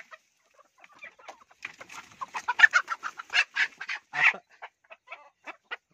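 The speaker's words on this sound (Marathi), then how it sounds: "आता ह्या ज्या कोंबड्या आपण पाहतोय या एक वर्षाच्या झालेल्या कोंबड्या आहेत" Village hens, a flock of year-old desi country chickens, cluck in a steady run of short, close calls that cluster and overlap before thinning out toward the end, with no talk over them.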